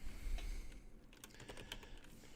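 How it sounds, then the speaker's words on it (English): Rapid clatter of typing on a computer keyboard, close and fairly quiet, with irregular bursts of keystrokes and no speech. "as I'm typing in the wrong area"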